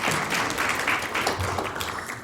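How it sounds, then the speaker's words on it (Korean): A church policy-conference audience welcomes a speaker with brief, fairly loud, dense applause that holds steady and begins to taper at the end. "박수로 다시 한번 더 환영하겠습니다."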